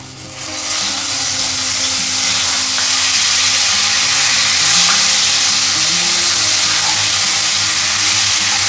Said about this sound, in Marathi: आता यामध्ये सर्वात आधी आपण जे मिश्रण ठेचून घेतलेलं आहे आलं लसूण कोथिंबीर आणि मीठ ते टाकूया